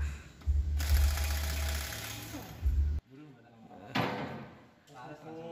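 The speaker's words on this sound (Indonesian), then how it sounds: "kali ini kita menggunakan impact, jadi tidak perlu lagi mengendurkan roda sebelum dilakukan pembukaan" An impact wrench loosens the wheel bolts on a Suzuki Ertiga during front and rear brake service, giving a loud, sustained mechanical whirring burst of about two seconds, followed by quieter clanks and shuffling.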